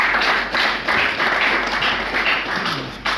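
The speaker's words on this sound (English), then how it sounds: "Can we clap for that," An audience at a Ghana Football Association event applauds in a thick, continuous burst of clapping that swells and eases slightly, heard fairly close with no talk over it.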